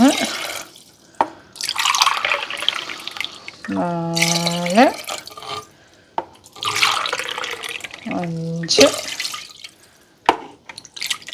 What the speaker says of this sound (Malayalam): ആറ് ഗ്ലാസ് വെള്ളം നമുക്ക് ഒഴിച്ചു കൊടുക്കാവേ